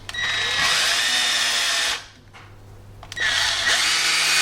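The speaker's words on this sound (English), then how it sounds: "Now it's simply a question of inserting the new screws" A power drill drives new screws into a window frame, with two long close whirring runs separated by a brief pause and no voices.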